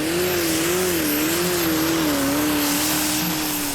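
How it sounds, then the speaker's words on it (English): A pulling tractor with a Perkins V8 engine in a Massey Ferguson chassis roars loudly and steadily at a tractor pulling championship, its engine note wavering slightly throughout, with no talk. "It's a Perkins V8 in a Massey Ferguson chassis."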